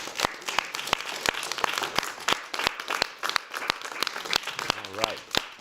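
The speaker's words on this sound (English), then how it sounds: "Let's give Hazel another round of applause." A mayoral event audience applauds honoree Hazel with steady, scattered claps that carry on throughout, with voices talking over the clapping.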